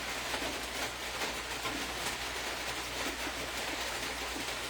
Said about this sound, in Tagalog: Yes, malakas ang ulan ngayon.